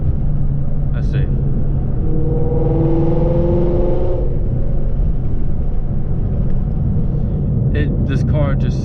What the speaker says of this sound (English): This car just sounds so good.